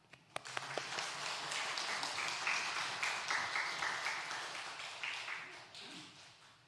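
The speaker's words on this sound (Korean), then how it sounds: "하나님께 영광과 감사의 박수" A church congregation at a Sunday worship service breaks into applause, a few sharp early claps that swell into steady crowd clapping and then fade, with voices mixed underneath.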